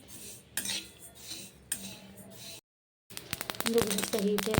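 Sesame seeds dry-roasting in a pan over medium flame while being stirred, quiet crackle under scattered clinks and scrapes of a spoon on metal, with a brief pause and a person talking.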